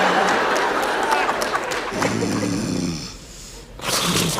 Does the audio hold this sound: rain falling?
no